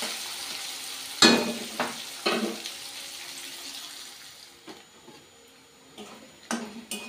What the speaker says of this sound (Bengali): পেঁয়াজ কুচিগুলো লাল লাল করে ভেজে নেব